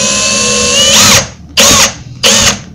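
A power drill bores a pilot hole through melamine board into the wood beneath, sounding as three loud, close whining bursts: one long run, then two shorter pulses with brief pauses between.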